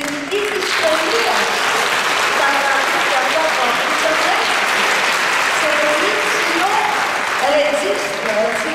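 Steady, dense applause from a large audience at an international choir festival in Orestiada, Greece, filling the whole stretch, loud and close, with voices faintly mixed in.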